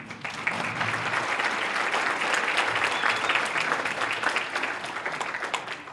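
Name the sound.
audience applause for guest Emmett McGroarty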